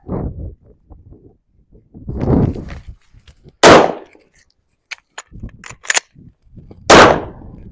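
Handgun firing at an outdoor range, two loud sharp shots spaced a few seconds apart among smaller clanks and handling noises, close by, with no voices.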